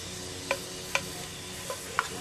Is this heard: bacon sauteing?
yes